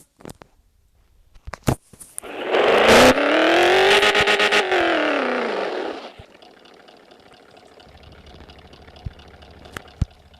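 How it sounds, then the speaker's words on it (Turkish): A video game car engine revs up, rises in pitch and falls over a few seconds, then settles to a low idle hum, with scattered clicks around it. "Aracın sesi."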